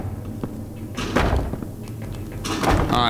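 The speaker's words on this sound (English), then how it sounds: "The door's slamming." In a horror video game, a door slams and thuds repeatedly, with heavy knocks and bangs spaced unevenly over a rumbling ambient background.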